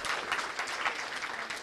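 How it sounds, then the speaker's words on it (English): An audience at a talk claps together on request, a soft, even spread of many hands clapping that sounds moderately distant and continues steadily without talk. "Let's clap. I know you like clapping."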